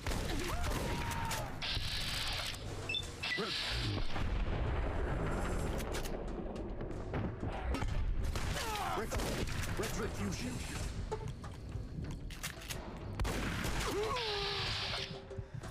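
Gunfire and combat in the game Fallout New Vegas during a fight at Caesar's camp, a dense continuous din of shots and impacts with tonal game effects layered over it.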